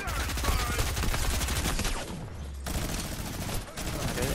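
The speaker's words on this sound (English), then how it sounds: "is that a minigun?" Rapid automatic gunfire from a minigun in a shooter video game, a dense continuous stream of shots loud and close, with short breaks between bursts.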